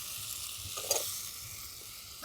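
Chopped beans going into a pan of carrots, giving a soft steady sizzle with a brief brighter burst of frying near the middle, heard alone at low level.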